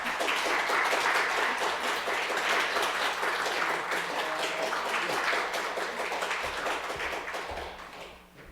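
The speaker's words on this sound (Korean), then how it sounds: "박수하겠습니다." A church congregation applauds during a Sunday service gift presentation, a full, sustained wash of many hands clapping that holds steady and then fades away near the end.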